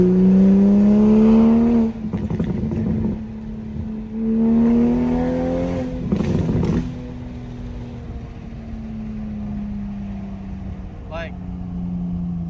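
A 2020 Toyota Supra MK5 with a single-exit Tomei exhaust, in sports mode with the window down, revs hard through a downshift in two rising surges, then settles into a steady, loud engine drone that eases off.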